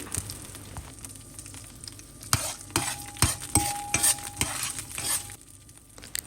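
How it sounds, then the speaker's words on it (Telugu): Green chillies frying in a tablespoon of oil in a pan while a brinjal tomato chutney is being made, with a steady sizzle and repeated stirring scrapes and clinks of a utensil against the pan, close and alone. "ఇప్పుడు అదే ప్యాన్లో వన్ టేబుల్ స్పూన్ ఆయిల్ వేసి పచ్చిమిరపకాయలు వేసి వేయించుకోండి"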